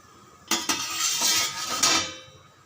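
Poori being turned in hot oil and lifted out to drain, a short burst of sizzling with a few metal clinks of the slotted spoon against the pan, then quickly fading to quiet.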